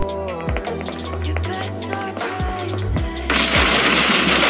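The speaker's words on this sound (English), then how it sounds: "I heard someone shooting from where?" Rapid bursts of automatic gunfire and single shots crack through a raid-defence fight in the survival video game Last Island of Survival, loud and repeated over a steady game background, ending in a dense noisy blast.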